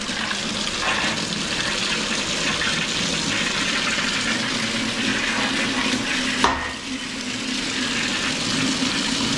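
Water gushes steadily out of an opened drain valve on a commercial Laars boiler, a loud, continuous rushing stream with a brief lurch partway through and no talking.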